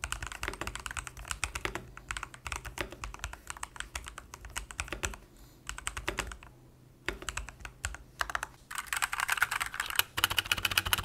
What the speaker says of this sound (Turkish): Şimdi ise Asus ROG Strix Snow switchlerin seslerini bir dinleyelim.